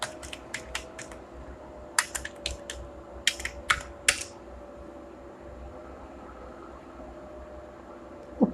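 Typing on a computer keyboard, with short bursts of crisp key taps close up, clustered in the first half and then stopping, over a faint steady fan hiss.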